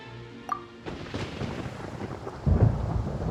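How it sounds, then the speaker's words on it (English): Thunder rumbles through a video game storm in Genshin Impact, starting with a faint crack and swelling into a loud, rolling boom that builds toward the end, with no voices over it. "Paimon hears thunder!"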